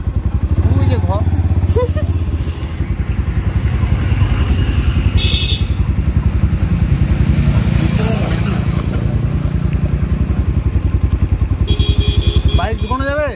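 A motorcycle being ridden through the town of Ranaghat toward a bike shop, its engine close and loud with a steady, throbbing drone that runs unbroken for the whole stretch.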